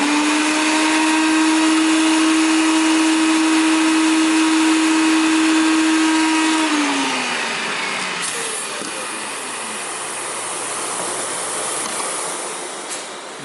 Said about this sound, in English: Now I'm going to turn this Kirby on. I've got the Miele running.